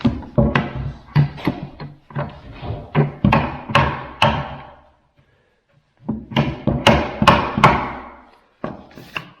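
Repeated sharp hammer taps on a drill bit pushed through a wooden shelf, loud, close knocks in quick bursts, a short silent pause, then another run of taps.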